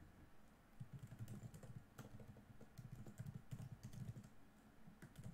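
Computer keyboard typing, bursts of quick close key clicks in an irregular rhythm with short pauses between runs, fairly faint and alone.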